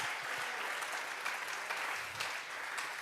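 A church congregation claps steadily during a Spanish-language Bible study service, an offering of applause to God, a dense, even wash of many hands with no talk over it.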